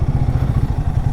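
A motorcycle rides along a road approaching a toll plaza on a trip from Shimla to Manali, its engine a close, loud, pulsing low chug with a quick regular beat throughout.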